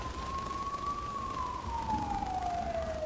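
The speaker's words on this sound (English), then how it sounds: "There's the police, an ambulance." A police siren and an ambulance siren wail from a distance, one steady tone slowly sliding higher and then falling away, faint against a low background rumble with no talking.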